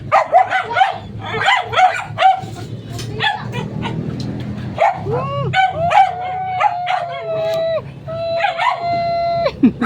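A dog on a rooftop garden barks and yips in quick bursts, then whines and howls in drawn-out, rising cries, close and loud, with a person talking in between.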